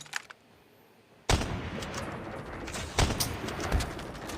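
Machine gun fire erupts in a shooting video game after a quiet opening, a loud sustained barrage of rapid shots with a few sharper peaks.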